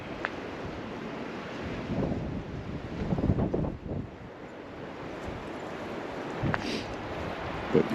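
Steady coastal wind buffets the microphone on a clifftop above Boulogne, a broad continuous rush with gusty swells and low rumble, no voices.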